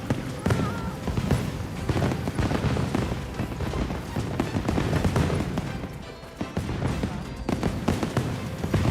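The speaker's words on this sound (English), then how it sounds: "Yes, fireworks for our performance." Fireworks burst in the Monster Hunter Wilds video game, a loud dense run of overlapping booms and crackles with no pause.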